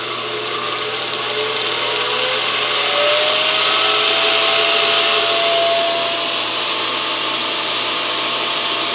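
Treadmill motor driving a round-column CNC mill spindle, spun up toward about 3,000 RPM, giving a steady broadband whir with a faint rising whine that swells in the middle and then settles.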